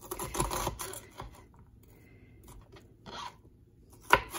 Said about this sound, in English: I'm trying to find the best way here to cut this onion so it doesn't slip on me.